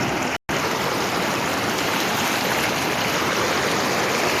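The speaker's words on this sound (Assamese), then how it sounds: "ইমান ঢৌ এয়া" River water with waves rushes past in a loud, unbroken wash of broadband noise, close and steady with no voices.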